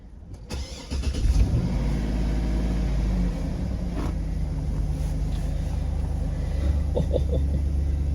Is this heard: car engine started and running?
yes